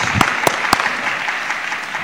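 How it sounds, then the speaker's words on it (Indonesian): Church congregation claps in praise, a few sharp distinct claps up front then a softer spread of scattered applause continuing through the room. "Boleh kita berikan tepuk tangan bagi Tuhan Yesus"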